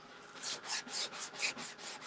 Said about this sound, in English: I can grab a sanding block and see, you can see that I can pull those colors